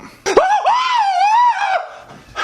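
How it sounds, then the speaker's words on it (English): A man screams in a long, wavering, strained cry in a Bud Light beer commercial, loud and close, rising and falling in pitch for about a second and a half before breaking off. "What the f*** you screaming for?"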